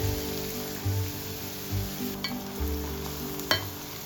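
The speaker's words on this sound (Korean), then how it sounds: "다진 양파와 마늘을 넣어 중약불에 1분가량 볶아줍니다" Minced onion and garlic sautéing in olive oil in a preheated stainless steel pan over medium-low heat, giving a steady soft sizzle with a few brief stirring scrapes, close and moderately quiet.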